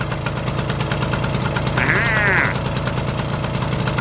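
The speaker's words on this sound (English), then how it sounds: "the little Stuart is going, and she's actually running quite nice" An old Stuart Turner boat engine runs at a steady idle, a close, continuous low mechanical thrum with rapid regular pulsing, briefly overlaid by a higher squealing tone midway.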